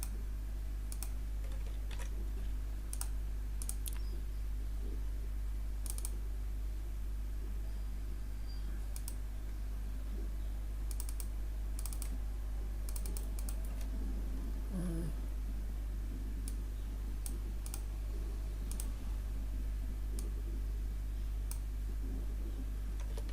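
Scattered computer mouse clicks and keyboard key taps during work in Microsoft Word, sparse and fairly close, over a steady low electrical hum with no talking.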